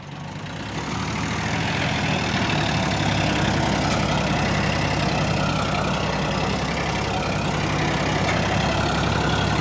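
A 265 tractor engine runs steadily and loudly at close range, a dense low diesel rumble with a faint knocking texture that holds constant for the whole stretch with no talk over it.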